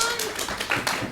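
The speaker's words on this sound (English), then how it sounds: "Let's give red team a massive round of applause." A brief burst of audience applause for the red team in a classroom-style game, with quick claps running together over a short stretch.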